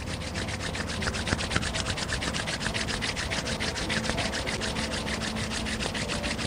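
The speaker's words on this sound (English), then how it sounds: "And then rub your hands together." Palms rub briskly together in a steady back-and-forth rhythm, a close, soft, continuous swishing friction with no talk.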